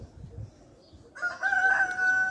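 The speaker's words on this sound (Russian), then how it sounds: "смотри, куры пришли, теперь здесь копошатся" A rooster crows in the yard of a rural house in the south, a loud drawn-out call rising over a low murmur of chickens scratching about close by.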